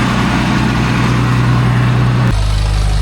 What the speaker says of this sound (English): Colton on the McCormick, bringing it in. It's in road gear.